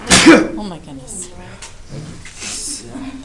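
A single sharp sneeze bursts out near the start in a classroom, followed by quieter murmuring and people talking.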